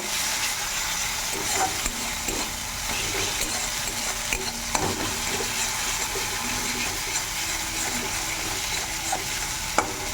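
Spice paste for a Bengali fish curry fries and is stirred in a pan, a steady dense sizzle with scattered scrapes and clicks of the spoon throughout, close and fairly loud with no talking.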